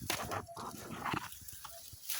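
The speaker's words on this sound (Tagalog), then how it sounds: "May asong tumatahol." A dog barks a few times at a distance in a rural forest setting, faint and intermittent over outdoor background noise.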